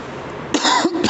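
A single short cough, fairly close and clear, followed by a quick second throat sound, with no talking.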